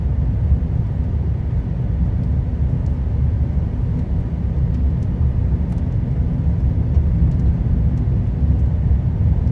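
Steady low engine and road rumble from a 5-speed manual Chevy Spark with a 4-cylinder, 98-horsepower engine, droning continuously and loudly throughout with no talking.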